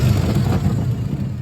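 A Ford Explorer engine runs steadily just after starting, a dense low rumble held at an even level close by, with no misfire evident.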